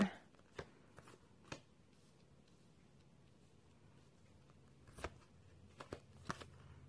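Tarot cards being shuffled during a reading, soft quiet riffling with a few sharp snaps and taps scattered through, close by over a low hum.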